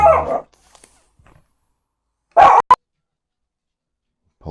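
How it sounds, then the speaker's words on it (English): A pet dog barks in a few sharp, close bursts at an expected delivery, with long silent gaps between them. "Just had to stop my dog from going absolutely crazy because he thinks we're getting a delivery."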